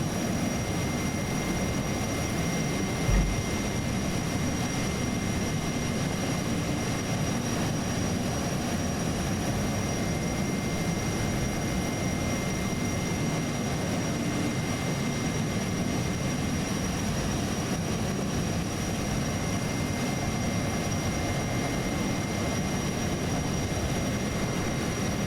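Steady, loud jet roar of a Learjet 35A cruising in flight in Microsoft Flight Simulator 2024, a continuous broadband drone with a faint high whine, unbroken for the whole stretch with no talking.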